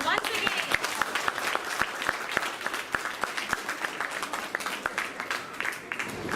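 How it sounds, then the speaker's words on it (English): School audience applauds a children's rhymes performance with dense, lively clapping, a few sharp individual claps standing out, while voices talk underneath. "So let's give them a big round of applause once again."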